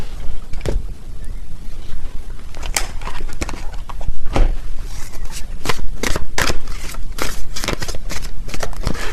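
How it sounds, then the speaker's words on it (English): Tarot cards shuffled close up, repeated riffling and flicking bursts in an uneven rhythm with rustling between them. "Let me get a few more tarot cards here."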